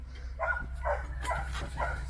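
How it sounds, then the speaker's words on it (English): A dog indoors in an 1800s home gives about four short, close barks or yips in a row over a low background hum. "he had his own personal dogs"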